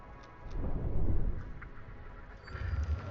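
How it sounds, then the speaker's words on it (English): Thunder rumbles through a storm in the video game Ixion, a low swelling roll that rises, fades and returns near the end, heard alone at moderate volume with faint rain-like texture. "Okay, that storm is moving,"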